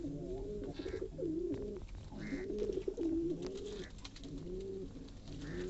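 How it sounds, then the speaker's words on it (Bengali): Pigeons cooing in a loft, repeated soft rolling coos overlapping one another across the whole stretch, fairly close and steady with no talking. "কবুতরগুলো দেখেন, তারা খুব বিরক্ত"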